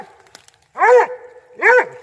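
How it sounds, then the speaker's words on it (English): A Redbone coonhound on a coon hunt gives two loud, drawn-out bawling barks close by, spaced under a second apart, with faint background sounds before them and no talk. "Talk to him, Diesel. Talk to him, boy"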